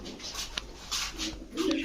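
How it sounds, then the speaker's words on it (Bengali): A Tiger Grizzle pigeon coos in a few soft, low pulses close by, with faint background shop noise around it. "এটা হচ্ছে টাইগার গ্রিজেল মাশাল্লাহ খুব সুন্দর একটা কবুতর"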